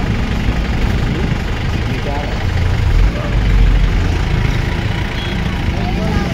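Engines idle steadily in a traffic jam near the Narmada river, a continuous low rumble of several vehicles held at a standstill, fairly close and loud throughout, with faint voices in the background.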